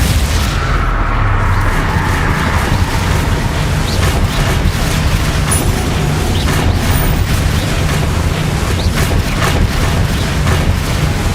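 Confringo and Expulso spell blasts from the video game Hogwarts Legacy, a loud continuous rumble of booming explosions and crackling bursts with repeated sharp impacts spread across the whole stretch.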